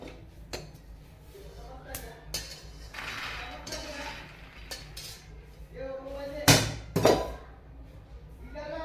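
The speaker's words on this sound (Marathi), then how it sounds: "आपण एका डिशमध्ये शेंगदाणे काढून घेऊया थंड होण्यासाठी" Roasted peanuts are scraped and tipped from a pan into a dish, giving scattered metallic clinks and sharp scraping taps at close range, some louder knocks near the end, with a faint voice in the background.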